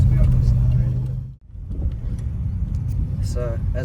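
A Ford Falcon XR6 with a swapped 3UZ V8 rumbles loudly up close, dipping briefly to near quiet before its engine note climbs again in a steady rev.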